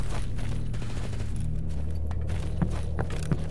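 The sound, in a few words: rapid gunfire from a gun in video game STALKER GAMMA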